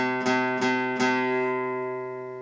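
A single guitar chord strummed three times in quick succession, each strum ringing out clearly and the last one left to sustain and slowly fade.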